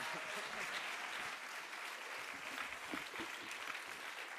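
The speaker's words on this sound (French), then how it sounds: "je vous invite à applaudir Marie Pochon" An audience at an ecologist rural-affairs conference claps steadily as a speaker, Marie Pochon, comes up to open the event; a dense, even patter of many hands that holds throughout with no voices on top.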